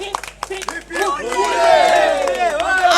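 A crowd at a Ganesh puja club celebration breaks into loud clapping and cheering, rising from scattered claps into a dense, sustained roar of applause with voices shouting over it.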